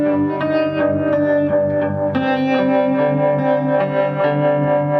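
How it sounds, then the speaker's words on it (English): Electric guitar played through a Memory Man delay pedal and a Strymon Flint reverb, sustained chords and notes smeared into a thick, haunting wash of echoes and reverb, loud and continuous. "So Ariel just turned on his Memory Man and the Flint Strymon"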